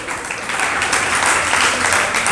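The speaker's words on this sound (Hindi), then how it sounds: "आपने ताली बजा" An audience at a spiritual discourse class bursts into dense, steady applause that fills the whole short stretch without letup, with no talking over it.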